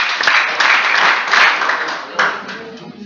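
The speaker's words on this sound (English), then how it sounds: "Clap for them." Applause from a classroom audience, broad steady clapping with a fresh burst near the end, loud and close with voices mixed in.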